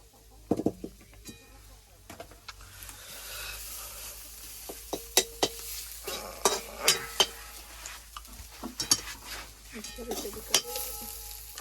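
Chicken frying in oil in a home kitchen, with a low sizzle beneath repeated sharp scrapes and clacks of a spoon stirring the pan, coming in irregular bursts that grow busier toward the end.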